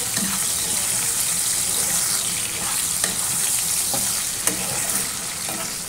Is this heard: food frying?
yes